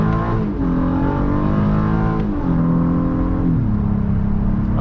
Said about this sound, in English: It upshifted for me that time.